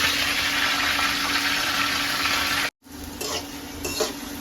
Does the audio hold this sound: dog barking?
no